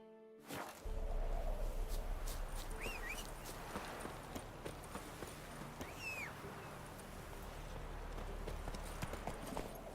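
Roach the horse clip-clopping steadily along in The Witcher 3 video game, an even trotting hoof rhythm with soft game ambience beneath, a couple of faint higher calls drifting over it.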